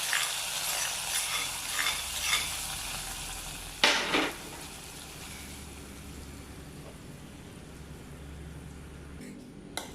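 Curry leaves spit and crackle in hot oil as a tempering is poured into a breadfruit curry, a continuous close sizzle with a sharp burst midway.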